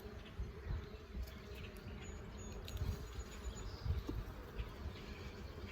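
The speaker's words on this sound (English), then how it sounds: "A lot of bees, a lot of honey." Dense, continuous buzzing of many honeybees swarming around a pulled hive frame heavy with honey, a steady close insect drone with no talking.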